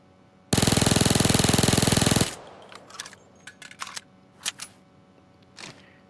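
A Micro Uzi submachine gun empties its whole magazine on full auto in Payday 2, a loud, fast, even rattle lasting under two seconds, then a few scattered clicks and mechanical clacks of handling and reloading.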